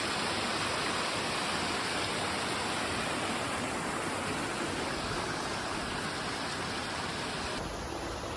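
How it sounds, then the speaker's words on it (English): Steady, loud rushing of a waterfall on the Appalachian Trail fills the scene, a constant broadband roar with no pauses, with interstate traffic nearby. "This waterfall is beautiful."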